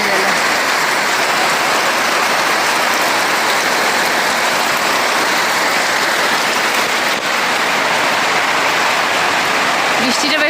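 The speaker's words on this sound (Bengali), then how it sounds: "দেখো তোমাদের বলতে না বলতেই কি বৃষ্টি নেমে গেল।" Heavy rain pours down steadily on a hot day, a dense, loud, continuous hiss of water close by that holds unbroken from start to finish.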